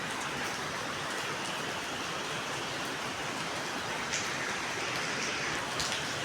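Steady, continuous rain falls during cold weather in Ramadan, forming an even wash of hiss with occasional louder drops striking nearby surfaces, no voices present.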